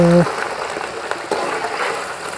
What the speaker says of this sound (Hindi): और अब मैं इनको घी में फ्राई कर लूँगी।